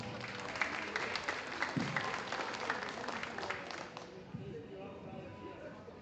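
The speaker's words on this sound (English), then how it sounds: "Let's give them a nice round of applause." A crowd at a livestock show steer judging gives a round of applause, moderate clapping from many hands that lasts about four seconds before tapering off into quieter room sound.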